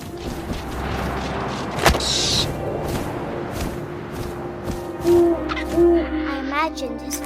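An owl hoots in the video game What Remains of Edith Finch, a few low tonal hoots late in the scene over wind and ambient game sound, with a sharp thump and a brief higher flutter earlier.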